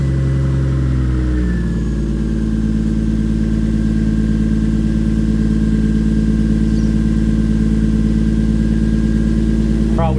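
A BMW E46 with a swapped 1JZ-GTE engine cranks and catches, then settles into a steady, loud idle that continues to the end.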